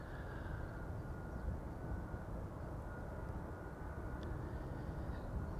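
United Airlines Boeing 767-300 taking off from Amsterdam Schiphol, a steady broad jet roar that holds loud and constant throughout, close by with no talk over it.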